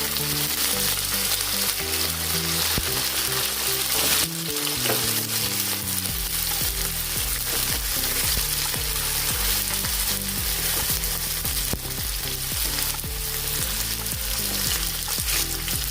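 Chopped onions sizzle steadily in hot oil in a pan, a dense continuous hiss running under loud melodic background music throughout.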